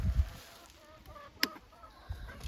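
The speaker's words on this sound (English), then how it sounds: "the chickens are so used to running to the front of the coops" Chickens in farm coops give scattered soft clucks and one sharper squawk, close by and fairly faint over a quiet outdoor background.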